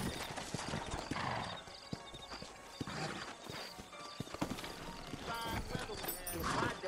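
Horse hooves clip-clop at a steady trot with occasional whinnies, under a constant bed of ambient noise and some background talk, from the video game Red Dead Redemption.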